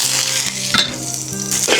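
Garlic fries in a hot wok before pork is braised, a loud, steady, close sizzle with faint crackles and brief stirring scrapes throughout, with no speech.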